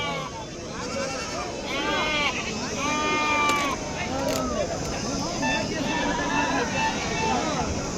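Sheep and goats bleat again and again at a Saturday livestock market in Akkirampura, Koratagere taluk. Overlapping wavering cries, some near and some farther off, rise over a constant hubbub of crowd chatter and people talking.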